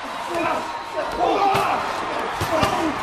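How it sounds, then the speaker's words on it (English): A wrestler, Bull Buchanan, is slammed through a door during a hardcore title wrestling match, with several sharp crashing impacts over a loud, continuous arena crowd roar. "Bull Buchanan sent right through that door"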